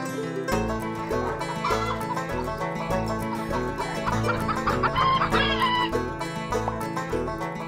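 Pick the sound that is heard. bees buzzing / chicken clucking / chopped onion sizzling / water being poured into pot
chicken clucking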